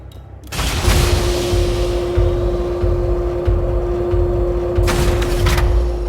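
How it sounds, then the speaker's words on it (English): Spaceship engines engage in the video game Elite Dangerous, a loud sustained roar that rises from near silence, carrying a steady tonal whine and occasional low thumps. "Ship released. Engines engaged."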